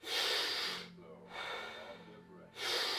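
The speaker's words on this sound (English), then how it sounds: "you'll do 40 pretty much rapid deep breaths" Rapid deep breaths during a breathing exercise, with three strong, close, hissing breaths in quick succession and short pauses between them.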